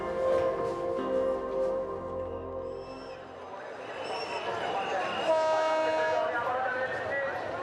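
A crowded passenger train bound for Dhaka rumbles under a busy mix of voices, with tonal horn blasts sounding over the steady rail noise.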